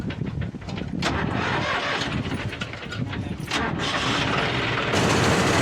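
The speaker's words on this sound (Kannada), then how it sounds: "ಗಾಡಿ ಸ್ಟಾರ್ಟ್ ಆಗ್ಬಿಟ್ಟು ನೋಡ್ರಿ" A tractor engine cranks and catches on a farm, turning over into a loud, rough running note close by, with voices talking over it.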